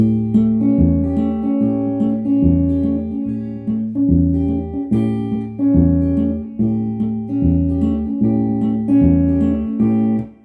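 An acoustic guitar plays a fingerpicked, repeating arpeggio pattern from a song, with bass notes and treble strings alternating in an even rhythm, close and clear with no talking.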